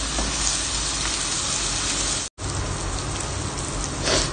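Onion, chili and garlic fry in a hot pan for a kapak dish, a loud, steady close-up sizzle like heavy rain, broken once by a brief dropout of silence.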